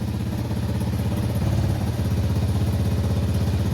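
Single-cylinder engine of a 1983 Suzuki LT 185 ATV idling steadily up close, a loud, even low throb with a slight surge midway and no voices.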